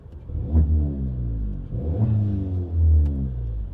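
A small straight-piped 1.2 TSI car engine revs up three times in quick succession, each rise a loud, raspy exhaust roar that falls back to idle, recorded close.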